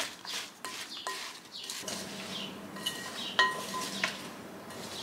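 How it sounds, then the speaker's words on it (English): Soft clinks and scrapes of a utensil against a bowl as seasonings are stirred together, faint and close, with a few sharper taps. "And then I'm just gonna mix this all up."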